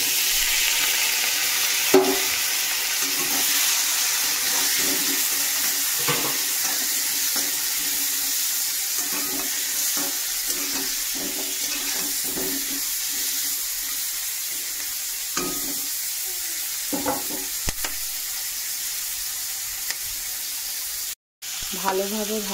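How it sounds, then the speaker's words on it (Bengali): Onion and green chilies are stir-fried in hot oil in a pan with spices, giving a steady sizzle broken by repeated scraping clicks of a spatula being stirred, close and fairly loud. "একটু ভালোভাবে নেড়ে চেড়ে পেঁয়াজ আর কাঁচা লঙ্কাটা দিয়ে দেবো।"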